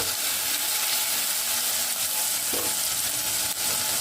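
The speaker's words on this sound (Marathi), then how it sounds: "ही देखील आपल्याला थोडीशी तेलात परतवून घ्यायची आहे" Chili, garlic and ginger paste sautéing in hot oil, giving a continuous dense sizzle with faint stirring scrapes and one small clink near the end, no voices.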